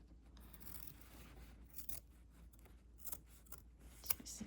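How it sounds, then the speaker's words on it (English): Scissors trim denim fabric in a string of quiet, close, crisp snips and slicing scrapes, irregularly spaced, with no one talking. "So now I am going to trim the denim portion of this."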